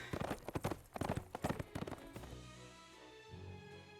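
Horse hooves clip-clop in a quick, steady rhythm, then fade into a softer rumble as the hoofbeats stop.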